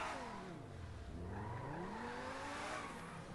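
Car engine revving with sweeping pitch and a tire squeal in the game GTA 5, loud and continuous, with no talk over it.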